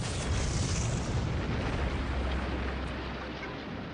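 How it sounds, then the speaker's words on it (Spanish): A loud, sustained roaring blast with deep rumble from an explosion set off by a shovel, filling the space and slowly fading, with no voices. "se produjo una explosión."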